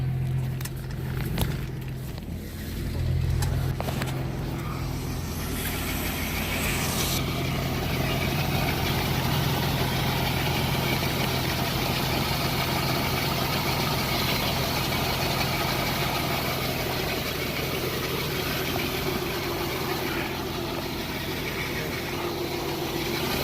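Engine of a 1988 Hurricane deck boat idling steadily during winterizing while antifreeze is pumped through, a continuous low rumbling drone that holds even and fairly loud throughout.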